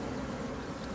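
Honey bees swarm around an opened hive during an inspection of a queenless colony, a dense, steady buzzing hum that fills the whole second without a break.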